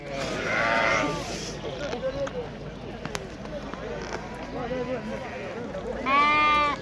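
Sheep bleat repeatedly at a busy livestock market in Morocco, several close and loud calls standing out at the start and end over a steady crowd murmur, with people talking throughout.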